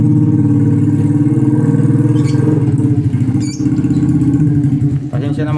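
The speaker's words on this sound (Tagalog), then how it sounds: "ang ingay ng motor" A loud, steady motorcycle engine idling close by, with a deep rumbling drone and slight revving toward the end.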